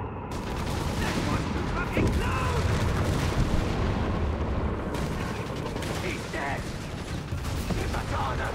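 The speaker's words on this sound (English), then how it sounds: "155mm rapid artillery barrage." A 155mm rapid artillery barrage in Company of Heroes 3 pounds continuously, dense overlapping booms and blasts with gunfire mixed in, loud and sustained from start to finish.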